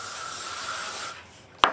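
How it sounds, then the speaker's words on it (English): Hairspray hisses steadily for about a second as it is sprayed onto smoothed hair for a ballerina bun, close and even, then cuts off before a sharp tap near the end. "you can take a little spray just for a little bit"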